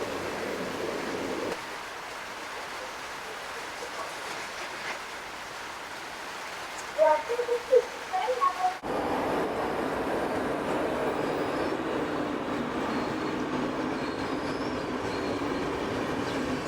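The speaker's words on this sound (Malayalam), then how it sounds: "ഇപ്പോൾ കന്യാകുമാരിക്ക് പോണ വഴി മംഗലാപുരത്തു നിന്ന് വരുന്നൊരു ട്രെയിൻ അത്." An express train passes through Thrissur railway station in Kerala, a steady rolling rumble of wheels and carriages that swells abruptly partway through and continues loud to the end, with a few brief clanks along the way.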